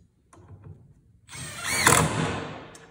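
An impact driver drives a screw into wood with a rising mechanical whir and rattle, preceded by a few faint handling sounds, running loud and close for over a second.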